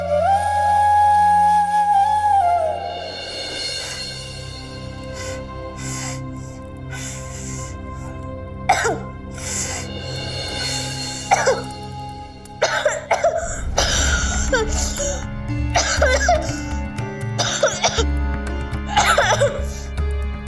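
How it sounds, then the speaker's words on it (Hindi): A young girl coughs several times, apparently from household chores she is not used to, with throat-clearing and a few soft vocal sounds between the fits. "आदत नहीं है इसलिए खांसी आ रही है"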